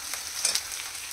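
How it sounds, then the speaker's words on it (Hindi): Onions frying in hot oil, a brief, steady, close crackling sizzle with no talk. "मैंने प्याज फ्राई करने के लिए प्याज डाल दी है"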